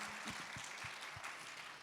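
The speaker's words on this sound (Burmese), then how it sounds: "ဖျားသခင်လက်ခုပ်တီးချီးမွမ်းရအောင်" An audience at a women's Christian conference in Chiang Mai claps together in a brief, quiet burst of steady applause.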